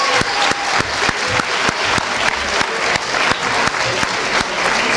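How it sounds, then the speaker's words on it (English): An audience at a Catholic high school event applauds the seniors, a dense, continuous burst of clapping from a large crowd filling the room without a break. "How about another round of applause for our seniors?"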